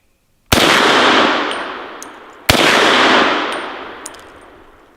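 Two loud rifle shots at bowling pin targets on an outdoor range, about two seconds apart, each a sharp crack trailing into a long rolling echo, with faint metallic pings of hits between them.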